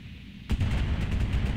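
Weapons firing in the mech combat game BattleTech, a sudden loud boom followed by a dense rumbling barrage of rapid impacts that keeps going to the end, with no voices.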